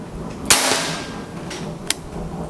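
First shot from a PCP air rifle with a full CNC FX 500 cc bottle: one sharp crack followed by a short rushing tail, then a fainter click or tap a second later.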